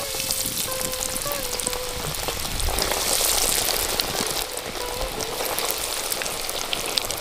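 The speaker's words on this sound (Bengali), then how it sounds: "বন্ধুরা এবার একে একে তুলবো আর কড়াইতে ছাড়বো আমরা" Vegetable chops sizzle and crackle in hot oil in a wok, a steady dense hiss of deep frying with a louder burst partway through, and no talk over it.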